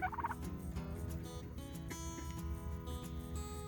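Turkeys on a farm gobble in a quick rippling burst at the start, followed by softer clucks and calls from the flock, fairly distant and quiet with no talk.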